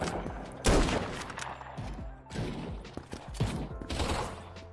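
Rapid gunfire in the browser shooter game Krunker.io, dense overlapping bursts of shots over a continuous game soundtrack, steady and moderately loud.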